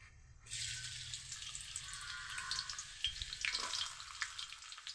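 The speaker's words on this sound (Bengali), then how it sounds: "তেল গরম করে নিয়েছি তেলের মধ্যে দিয়ে দিব পেঁয়াজ কুচি" Chopped onion drops into hot oil and sizzles steadily, a loud broadband hiss with faint stirring scrapes, for a spinach-stuffed puri filling.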